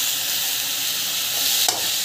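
A spiced chaat masala mixture sautés in a pan with a constant sizzle, and a single scrape of stirring is heard near the end.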